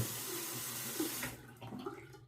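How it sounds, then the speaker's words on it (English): A tap runs over a razor during a shave. The water streams steadily and close for about a second and a half, then breaks into softer splashes as the flow is interrupted. "Let me wet the razor here."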